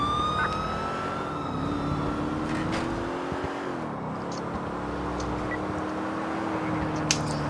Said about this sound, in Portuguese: Tem ambulância que tá ali, ó.